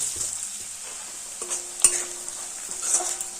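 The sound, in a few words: sliced onions frying in a pan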